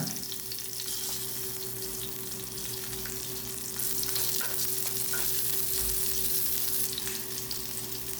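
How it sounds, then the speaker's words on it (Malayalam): Small shallots sautéing in hot coconut oil, a continuous dense sizzle with occasional stirring scrapes that swells louder midway, close and without speech. "വെളിച്ചെണ്ണ ചൂടായ ശേഷം നമ്മൾ ചെറിയ ഉള്ളി അതിട്ട് കൊടുക്കാണ് വഴറ്റെടുക്കാനുള്ളതാണ്"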